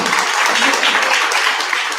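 Steady, dense clapping from an audience at a wealth and politics summit, continuous and even throughout with no voices standing out.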